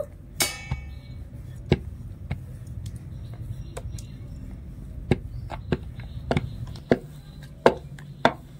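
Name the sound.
rolling out nimki dough with a rolling pin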